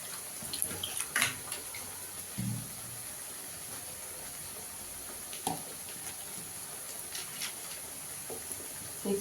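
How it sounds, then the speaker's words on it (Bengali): Water rinsing around a mixer jar and poured into a pan of spices, heard as intermittent splashing and trickling bursts over a steady hiss, with no voices. "মিক্সির বাটিটা ধুয়ে একটু জল দিয়ে দেবো।"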